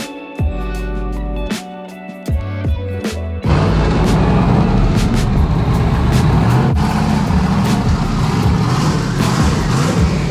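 A twin-turbo Chevrolet C10 stepside pickup on a new air suspension starts off with a few short engine bursts, then drives with a loud, steady engine and road roar close by.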